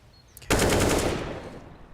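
A gunshot burst fired through a wall in the Counter-Strike: Global Offensive video game, a loud, sudden rapid volley that cuts in after a short quiet start and then rings out and decays slowly.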